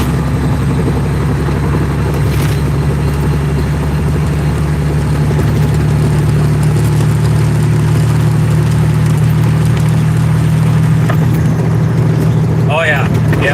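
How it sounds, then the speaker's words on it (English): A loud, loaded semi truck engine drones steadily from inside the cab in heavy traffic, a constant deep rumble filling the whole stretch. "I have a fairly loud semi as well"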